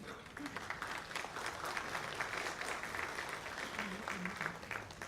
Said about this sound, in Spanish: a quien vamos a recibir con fuertes aplausos, al señor Sandro Castro Santillán.